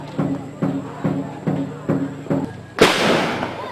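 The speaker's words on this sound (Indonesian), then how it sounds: "Bedil atau senjata lantak ditembakkan layaknya tembakan salvo sebagai tanda persahabatan dan perdamaian saat tamu datang" A run of evenly spaced low thumps gives way to a single loud, sharp blast from muzzle-loading guns fired in salvo to welcome guests to a village, echoing and decaying outdoors.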